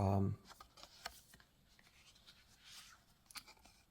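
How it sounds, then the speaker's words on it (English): A tarot card deck is riffle shuffled close by, a short thump followed by quick soft rustling and flicking of cards, with a voice talking over it. "So it doesn't overhand shuffle great. They don't fall apart from each other. It riffles shuffles"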